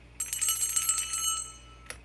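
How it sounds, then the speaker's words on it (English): A small bell rung in a quick burst of bright, ringing strikes, then a single short ring near the end, clear and close with no talking. "Let me ring my bell on that."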